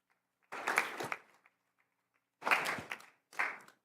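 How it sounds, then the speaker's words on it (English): Short bursts of applause at a city council meeting as a former planning commissioner comes forward, three separate spurts of clapping from a small group with quiet gaps between them. "We can give her a round of applause."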